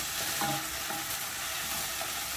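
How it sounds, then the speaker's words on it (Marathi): Turmeric and a pinch of asafoetida sautéing in ghee, a soft continuous sizzle with light stirring scrapes, close and steady. "आणि आता ह्याच्यामध्ये फक्त हळद, हलकंसं हिंग, तुपामध्ये हे सगळं मी परतते"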